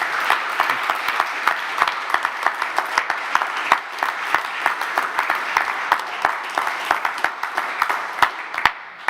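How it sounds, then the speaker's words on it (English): Sustained audience applause at a facade design conference, dense steady clapping from a large crowd filling the room, with a few sharper individual claps standing out, no speech. "Ladies and gentlemen, a big round of applause."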